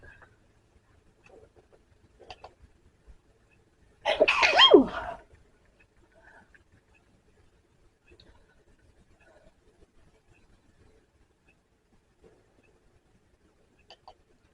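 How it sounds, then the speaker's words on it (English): A single loud sneeze bursts out around the four-second mark, standing alone in an otherwise quiet room with only faint rustles before and after. "that sneeze came out of nowhere"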